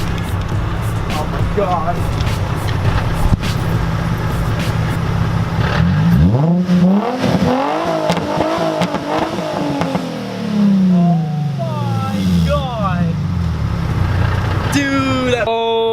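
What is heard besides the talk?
Nissan 350Z engine revving to redline with muffler delete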